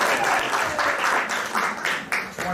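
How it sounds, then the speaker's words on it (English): Brief bursts of clapping from a theater audience at an improvised comedy show, uneven and moderately loud, swelling and dipping in short waves. "You should applaud this man."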